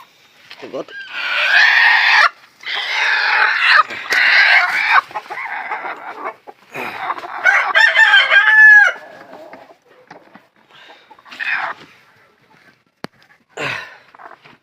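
Sonali chickens on a small egg-laying farm: hens cluck in loud bursts, a rooster crows once near the middle, and a goat may bleat, all close by with pauses between calls.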